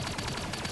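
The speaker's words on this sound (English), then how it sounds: "Not a very accurate gun." A short, dense burst of rapid gunfire from a gun in the Relic Hunters Zero video game, loud and continuous across the moment.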